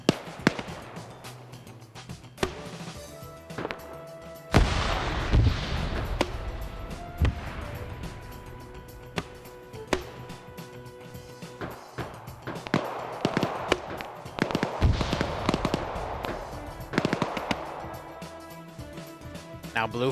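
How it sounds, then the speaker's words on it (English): Grenades and anti-tank fire go off during a large 100+ player multiplayer game battle, with repeated sharp blasts and pops at varying distances under a running commentary voice. "Smokes and frags being thrown around."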